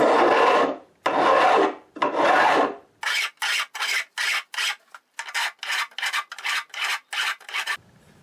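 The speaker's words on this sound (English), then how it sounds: "Got a file glued to a block of wood for trimming the edges." A file glued to a wooden block rasps along the fret edges of a Gibson L48 guitar, first in three long strokes and then in a quicker series of short, close scraping passes.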